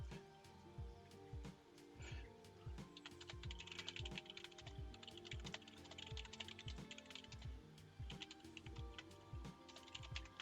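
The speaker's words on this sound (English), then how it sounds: "I'm just typing a few more things" Rapid typing on a computer keyboard, steady clicking keystrokes continuing throughout, close but quiet, with a faint background hum and no talk.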